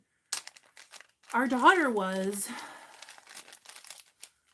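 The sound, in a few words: plastic bag crinkling while taking out sparkles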